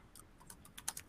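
Quick, light keystrokes on a computer keyboard patter in an irregular run of soft clicks, faint and close, with no talk.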